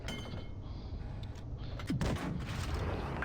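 Tank cannon fire in World of Tanks Blitz: a single deep, heavy boom near the middle over a constant low engine rumble, with a faint metallic reload clank earlier.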